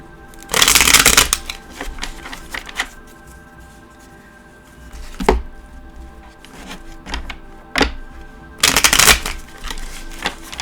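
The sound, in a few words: shuffling an Osho Zen Tarot card deck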